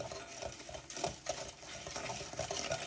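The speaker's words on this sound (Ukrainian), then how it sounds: "І перетираю масло з цукром." Butter is creamed with vanilla sugar and regular sugar by hand, a soft rhythmic scraping and squelching of a utensil against a bowl, steady and close, with no speech.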